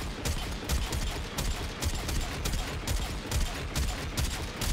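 Rapid gunfire in the video game Warframe, bursts of shots in quick succession repeating steadily throughout, loud and close with no talking.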